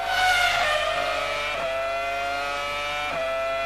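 A Formula One car engine screams at high revs during 2002 European Grand Prix practice, a loud continuous whine that dips briefly on two gear shifts, with no talk over it.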